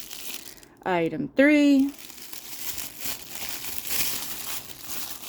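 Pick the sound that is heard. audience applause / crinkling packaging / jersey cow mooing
crinkling packaging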